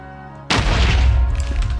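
A sudden loud explosion bursts in the Minecraft Savage & Ravage mod, sharp at onset and then rumbling on as a sustained blast of noise.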